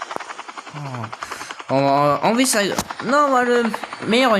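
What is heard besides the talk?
helicopter in a video game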